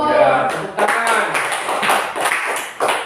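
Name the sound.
classroom clapping hands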